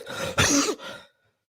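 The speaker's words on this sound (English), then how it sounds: "I'm still dealing with this cough" One harsh, close cough bursts out after a short breath, then a softer follow-up, fading into silence.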